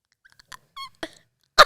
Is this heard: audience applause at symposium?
no